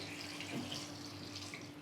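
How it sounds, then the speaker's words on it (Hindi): Water from a tap running steadily into a pot of soaked chickpeas while making chole masala, a soft, continuous close splashing stream with no talk. "पानी डाल देना है इसमें"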